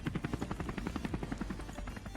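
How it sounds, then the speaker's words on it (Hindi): Helicopter in the video game Scarfall 2.0, a rapid rhythmic rotor thump chopping steadily and fairly close, alone without speech. "और तभी यहाँ पर आता है हेलीकॉप्टर का साउंड।"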